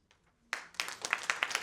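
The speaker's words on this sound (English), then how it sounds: "Big round of applause for Richa, our career comeback champion." An audience bursts into applause after a near-silent moment, building quickly into dense, close clapping that carries on steadily.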